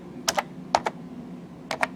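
Quick, light keystrokes on an AlphaSmart Pro keyboard come in short clusters of two or three taps, close and clear over a low steady hum.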